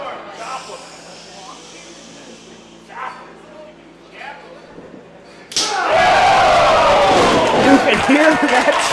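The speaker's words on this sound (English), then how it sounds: "You can hear that chop and the reaction resulting." A hard open-hand chop lands across a wrestler's chest at an indie wrestling show, a sudden loud slap that sets off a sustained roar of crowd noise after quieter arena murmur.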